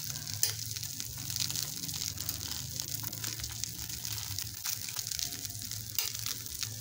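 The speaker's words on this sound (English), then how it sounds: "As you can hear, it's sizzling." Steady, dense sizzling of eggless French toast frying on a hot grill, a constant crackling hiss throughout with no voices.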